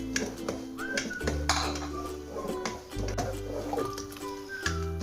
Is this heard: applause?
no